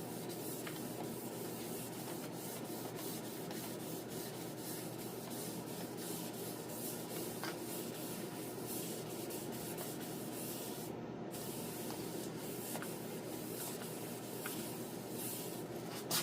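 Wet sanding of the clear coat on a Farmall 450 tractor, a steady continuous rubbing and scrubbing hiss that runs unbroken at close range with no voices over it.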